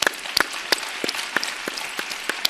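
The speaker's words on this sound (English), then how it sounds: "A big applause for her." Sparse, scattered claps from a small audience at a Soroptimist convention session in Kuala Lumpur, welcoming speaker Renuka; a handful of separate sharp hand claps spread unevenly across the moment, fairly faint and distant.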